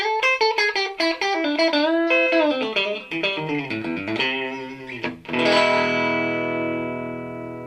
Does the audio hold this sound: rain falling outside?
no